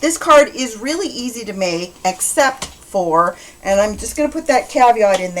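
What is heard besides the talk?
No everyday noises stand out.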